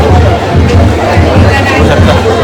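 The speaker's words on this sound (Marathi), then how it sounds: "गर्दीच गर्दी" Dense crowd noise at a village palanquin fair for the goddess Ekvira in a Koli fishing hamlet, a steady hubbub of overlapping voices and chatter that stays loud and close throughout.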